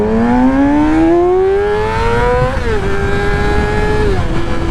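A motorbike engine revs up close and loud, its tone climbing steadily, briefly dropping after a gear change, then holding a steady drone before dipping again.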